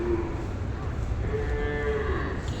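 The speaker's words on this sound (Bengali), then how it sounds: "এইদিকে অনেকগুলো গরু রয়েছে" Cattle on a farm in Bangalore moo nearby. A short low call is followed by a longer drawn-out moo over a steady background murmur.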